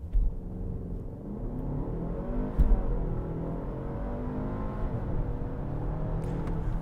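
A 2023 BMW X1 xDrive 28i accelerating hard from a standstill without launch control, the engine note rising steadily as it pulls through the gears, heard at moderate volume from inside the cabin.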